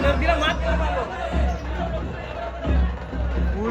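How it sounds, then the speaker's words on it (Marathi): Dense crowd chatter fills the grounds of Shri Chhatrapati Shivaji Maharaj's large temple: many overlapping voices blend into a steady murmur with a low rumble beneath, swelling slightly now and then. "गर्दी बघू शकता गर्दी तुम्ही हे बघा"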